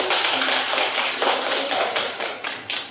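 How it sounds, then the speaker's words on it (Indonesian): Classroom students clap together to praise a group during an Islamic religious education lesson: steady, closely spaced handclaps from many pupils, fairly loud and continuous for a few seconds, with no talking over them. "Silakan tepuk tangan untuk kelompok ini."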